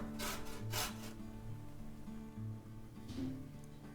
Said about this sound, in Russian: Одну морковь натираю на терке.